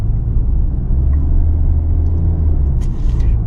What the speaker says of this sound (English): you're going to certainly hear more road noise in this vehicle